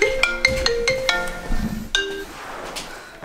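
An iPhone ringing with an incoming call: a bright chiming ringtone of repeated clinking tones, steady and fairly close, with a few chime notes and a rising tone near the end.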